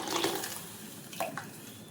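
Buttermilk and water being poured into a pot for kadhi, a short soft splashing trickle followed by a couple of brief pouring gurgles, quiet and close.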